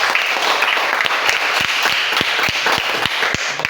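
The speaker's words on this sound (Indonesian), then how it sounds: "demikian tepuk tangan untuk itu ya" Classroom applause for a student, a steady stretch of many hands clapping at close range, with sharper individual claps standing out near the end and no talk over it.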